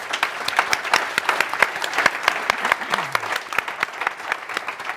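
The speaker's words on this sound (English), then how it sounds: "Give yourself an applause." An audience claps steadily and loudly throughout, a dense patter of many hands with no pauses.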